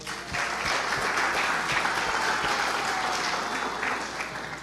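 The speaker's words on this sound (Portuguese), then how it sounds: "Aplauda Jesus" A church congregation applauds during a sermon, a sustained, full wave of many hands clapping, loud and even throughout, with no talking over it.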